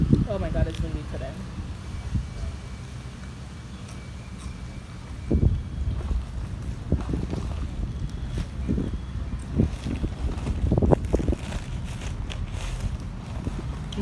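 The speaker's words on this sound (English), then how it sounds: "Oh my god, it's windy today." Steady wind buffeting the microphone outdoors, a low rumbling roar throughout, with a few sharp knocks and people talking over it.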